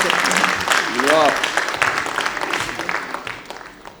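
Audience applause at an Urdu mushaira broadcast, welcoming the poets: a broad wash of many hands clapping, loud at first and gradually thinning, with a voice speaking over it briefly.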